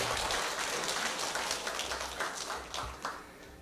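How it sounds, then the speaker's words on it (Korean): A church congregation at a Palm Sunday service claps together, a soft, steady patter of applause that tapers off. "하나님께 영광의 박수 올려드리겠습니다"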